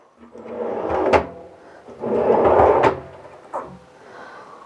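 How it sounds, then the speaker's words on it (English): Wooden pantry drawers on 18-inch full-extension 75-pound slides are pulled open and pushed shut several times, each stroke a rolling slide ending in a sharp knock, loud and close with no talk. "Okay, the drawers are in. Now we just need to check them."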